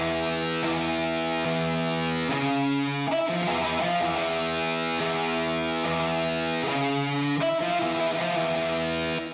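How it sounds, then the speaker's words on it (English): Heavily distorted lead guitar on a six-string in standard tuning, played solo with sustained bends and held notes, steady and loud with no other instruments or voices. "A soloed lead guitar sounds like this."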